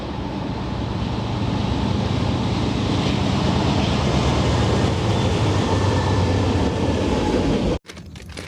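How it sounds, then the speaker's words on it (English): A freight train rumbles past near Logistics Park, Illinois, loud and close, with a steady roar and rushing noise until it abruptly cuts out near the end. "Waiting for this train to go by."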